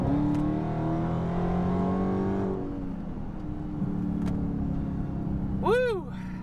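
A V6 Mustang sweeps past in an accelerating flyby, its engine note rising and falling. The roar holds steady at first, then fades, and a sharp, pitch-bending whoosh arrives near the end.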